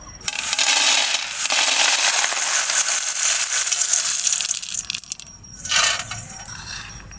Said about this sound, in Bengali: তার জন্য একটা থালায় ঢেলে নিচ্ছি।